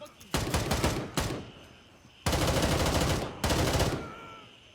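Sustained automatic gunfire in the Gray Zone Warfare video game, several loud bursts of rapid shots separated by brief pauses, close and dominant with no talk.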